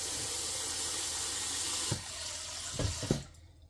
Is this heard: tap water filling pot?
yes